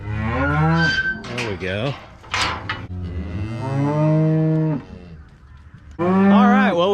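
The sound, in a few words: weaned calves bawling, cattle mooing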